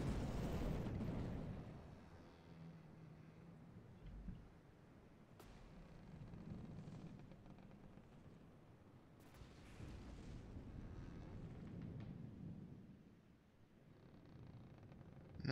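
Torpedo explosions rumble against a ship in the naval combat game From the Depths, a deep low boom at the start easing into churning water and sea noise, with sharper bursts near 5 and 9 seconds.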